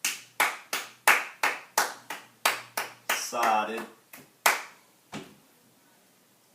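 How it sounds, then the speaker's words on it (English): About a dozen slow, separate hand claps ring out one by one, fairly loud and close, with a brief rustle in the middle before the last two claps fade into quiet. "Let's get a round of applause for her."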